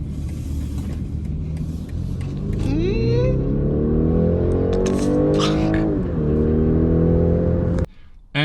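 A BMW X3 xDrive30e plug-in hybrid accelerating hard, its engine note climbing steadily in pitch through a long sustained pull, loud and close from inside the cabin, with a brief drop before the sound cuts off near the end.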